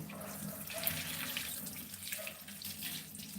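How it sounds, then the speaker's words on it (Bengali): Potatoes are rinsed under a running kitchen tap, the steady splashing of water into a sink close and moderately quiet, with soft handling sounds and no talk. "আলু নিয়ে নিলাম আলুগুলো ধুয়ে নি"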